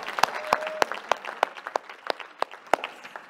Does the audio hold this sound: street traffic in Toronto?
no